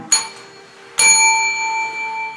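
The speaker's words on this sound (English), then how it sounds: "The bell's broken." A shop's door bell gives two bright metallic dings about a second apart, the second ringing on with a long, clear sustain. No one speaks.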